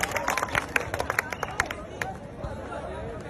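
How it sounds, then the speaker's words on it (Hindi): A crowd at a Haryana political rally claps to welcome a youth leader to the stage, a dense burst of sharp, uneven hand claps mixed with chatter and murmuring across the whole stretch. "जोरदार तालियां बजा करके हर्ष ठकारा जी को आमंत्रित करता हूं।"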